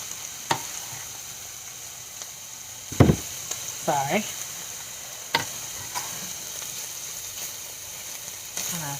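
Sausage frying in a pan for a keto breakfast bake, a steady low sizzle running throughout with sharper clicks and scraping stirs now and then, and one brief spoken word.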